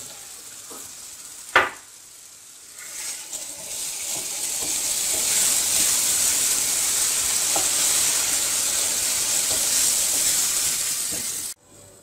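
An egg goes into a pan of frying vegetables for Turkish menemen with sucuk. It opens with a brief clack, then a loud steady sizzle builds and holds until an abrupt stop near the end.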